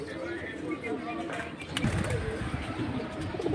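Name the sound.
Giribaz pigeons cooing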